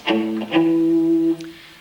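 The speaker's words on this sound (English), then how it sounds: "And the first one is the fifth. And the perfect fifth" Two sustained electric guitar notes sound together as a clean perfect fifth, plucked twice and left ringing, with no talking.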